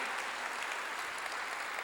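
A church congregation claps together in steady, sustained applause, a dense wash of many hands that stays even throughout.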